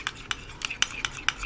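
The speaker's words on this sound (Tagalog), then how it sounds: "after you mix your dressing" A utensil stirs balsamic salad dressing in a bowl, giving about seven quick, evenly spaced clinks and scrapes, close and fairly faint.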